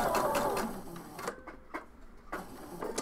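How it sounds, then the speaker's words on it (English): A sewing machine runs a steady whirring burst while stitching across the open end of a seam on a toy sewing project, then stops, leaving a few soft clicks and handling taps. "just sew right over the opening of the seam and just stitch it open"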